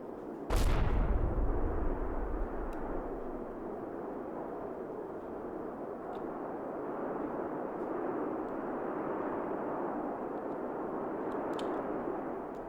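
Small artillery shells fire in the war game Combat Mission: one sharp, loud blast, followed by a long, steady roar of rumbling gunfire noise that carries on without speech.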